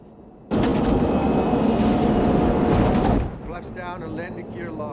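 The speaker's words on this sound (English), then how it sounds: "Flaps down and landing gear" An aircraft in a movie scene lowers its flaps and landing gear on a landing approach: a loud, steady broadband roar bursts in and holds for about three seconds, then drops away as voices talk over a quieter rumble.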